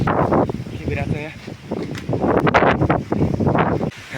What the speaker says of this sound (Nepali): हावा एकदम ठुलो चलिरहेको छ